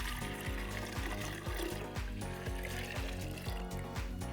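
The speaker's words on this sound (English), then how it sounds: "I'm gonna pour this in." Fresh, sweet-tart Cosmic Crisp apple juice pours into a punch mix, a close continuous gurgling stream with a rhythmic glugging pulse, steady and moderately loud without speech.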